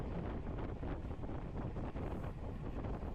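A headwind rushes over the microphone on a downhill during a women's Cat 4/5 bicycle road race, a loud continuous buffeting roar with no other sounds standing out.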